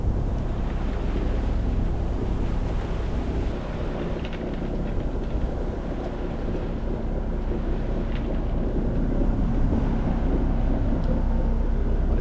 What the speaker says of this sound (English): help drown out the sound of the engine